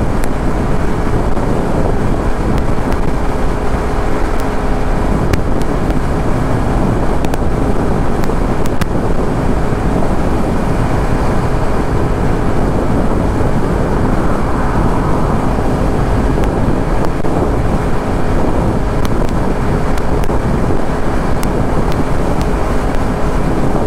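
Heavy, steady wind roar buffets the microphone from a motorcycle cruising on an interstate highway on a hot day, dense and constant for the whole stretch with engine and road noise blended underneath.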